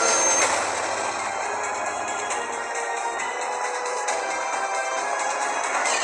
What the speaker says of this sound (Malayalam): ഇനി ഒരു ട്രെയിൻ വരും.